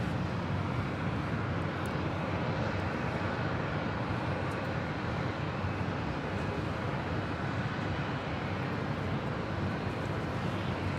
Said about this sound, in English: This is Alaska 866 coming in from Honolulu on a MAX 9.